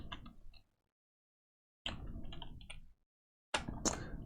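Quick bursts of clicking keystrokes on a computer keyboard, three short clusters separated by silent pauses, close and fairly quiet.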